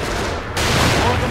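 Gunfire from The Evil Within video game, a dense burst of rapid shots that swells louder after a brief dip, with a voice talking under it.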